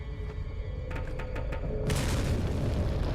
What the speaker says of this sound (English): basically you're gonna throw a frag grenade